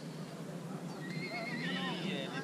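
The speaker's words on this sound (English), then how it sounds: "For example, this is a horse." A horse neighs with a long, wavering whinny while hooves clip-clop nearby, close and fairly loud against a steady outdoor background.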